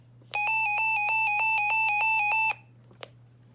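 A Reecom R-1650 emergency alert radio sounds a loud, rapid string of electronic beeps for about two seconds, a steady pulsing tone with a low hum beneath it, then a single short blip afterward.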